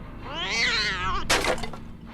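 A cat gives one drawn-out, rising and falling meow up close, followed by a short harsher burst, with no speech.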